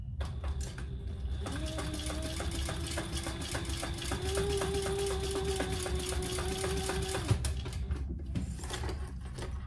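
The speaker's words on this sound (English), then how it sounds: "Make sure it's not twisted and sew that down. Again, two rows of stitches." A sewing machine runs steadily, stitching a swivel clasp onto a convertible hip bag with a fast, even mechanical whir and needle rattle, close and alone for most of the stretch, stopping briefly near the end.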